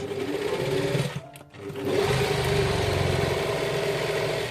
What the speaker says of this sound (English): This is the down of the dress. I'm sewing it with ½ inch.